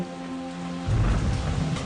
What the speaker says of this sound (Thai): เมื่อใกล้จะถึงอาสม ได้เกิดฝนตกหนัก